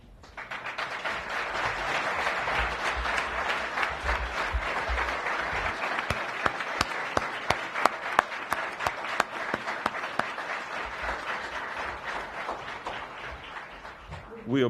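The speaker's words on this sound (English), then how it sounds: "We applaud and honor you on this day" An outdoor Memorial Day commemoration crowd at the Orange County War Memorial claps steadily for standing veterans and service members, a dense sustained ovation with a few sharp close claps standing out midway.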